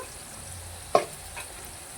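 Onion and green chillies frying in oil give a low, steady sizzle, broken once midway by a single sharp scrape or knock of the utensil, with a fainter tap shortly after.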